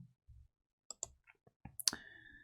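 A computer mouse clicks a handful of times while working in Photoshop, with sharp, quiet, close clicks spaced irregularly over a near-silent background.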